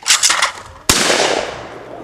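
Rifle shots at a family target-shooting outing outdoors: a quick burst of sharp cracks, then one loud close report at about the one-second mark with a long echoing tail fading away.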